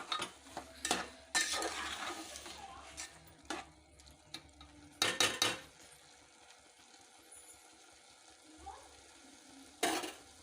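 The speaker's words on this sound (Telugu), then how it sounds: "కొంచెం కరివేపాకు టమోటా ముక్కలు దోసకాయ ముక్కలు వేసుకొని ఇలా కలుపుకోవాలి" A spoon stirs cucumber and tomato pieces with curry leaves in a pan for a cucumber tomato curry, with scraping clinks and knocks against the metal over a faint steady sizzle, close and alone.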